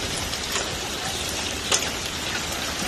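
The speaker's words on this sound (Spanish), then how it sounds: "Hielo, mira, lloviendo hielo." Hail falls like rain in a steady, dense patter across the whole stretch, with a few sharper individual impacts standing out from the continuous hiss and no voices.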